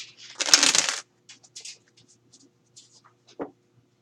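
Tarot cards being shuffled by hand: a dense burst of papery riffling up close, then scattered softer card slides and taps, with no talk.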